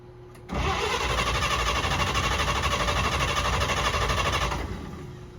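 A 1948 Chevy truck engine cranks and catches, then runs at a loud, steady rough idle close by for about four seconds before it begins to die away.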